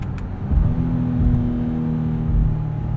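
A 2019 Honda Passport Elite AWD V6 engine pulls under steady acceleration near 4,500 RPM as VTEC engages, a smooth, close, rising drone from inside the cabin.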